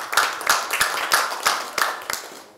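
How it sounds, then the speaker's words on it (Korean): An audience applauds at a Democratic Party supreme council meeting, with sparse, distinct claps spaced irregularly from a smallish group. The clapping is moderately loud and fades slightly toward the end. "큰 박수 보내주시기 바랍니다."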